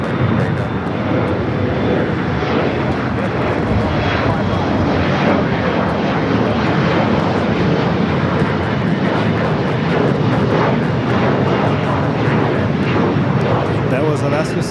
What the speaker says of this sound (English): That was Alaska SkyWest 3389 going to Las Vegas on a very long 1-hour flight.